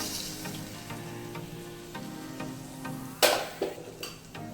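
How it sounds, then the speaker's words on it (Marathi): Spices for a sweet-sour raw mango chutney are mixed with a spoon, giving a soft steady scraping under a faint sizzle, then a few sharper clinks of the spoon against the vessel near the end. "चमच्याने असे व्यवस्थित मिक्स करून घ्यायचे मसाले"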